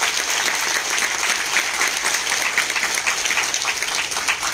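Steady, dense applause from a large crowd at a public announcement in San Juan del Río, Querétaro, loud and continuous throughout with no voices rising above it.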